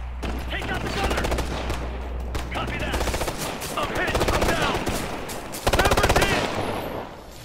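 Rapid automatic gunfire in the Ghost Recon: Future Soldier video game, dense and close with several overlapping weapons and a loud fresh volley near the end, over low rumble and occasional talk.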